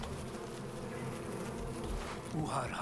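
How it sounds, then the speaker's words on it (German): A swarm of bees buzzes in the video game Far Cry Primal, a dense, steady drone that fills the whole stretch, close and loud, with other game sounds flickering underneath. "ist ja alles voller Bienen"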